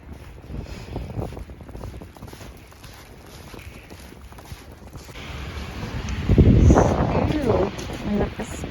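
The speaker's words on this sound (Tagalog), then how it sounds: "Pero malakas pa rin ang lakas ng hangin." Strong wind gusting through a wet snowstorm in Toronto, buffeting the microphone with steady rumbling roar that swells louder near the end, while a person talks over it.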